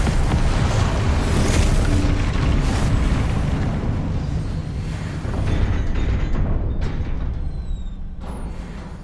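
A Confringo fire spell from Hogwarts Legacy erupts in a loud, sustained explosive roar with deep rumbling booms, swelling again midway and tapering off near the end, with no talk over it.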